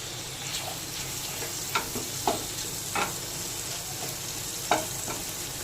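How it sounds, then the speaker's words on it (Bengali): Salted, turmeric-rubbed prawns fry in a pan with a steady soft sizzle, broken by a few sharp crackles and spatters, heard alone with no talk. "চিংড়ি মাছগুলো ধুয়ে পরিষ্কার করে নুন হলুদ মাখিয়ে রেখেছি, সেগুলো এখানে দিয়ে একটু ভেজে নেব।"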